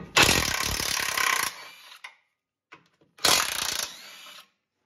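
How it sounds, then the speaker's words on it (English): A ratchet wrench turns 14mm bolts on the front lower control arm of a 2007-2012 Acura RDX in two loud, close bursts of rapid clicking, separated by a short pause with faint metallic handling sounds. "Now remove these two 14mm bolts."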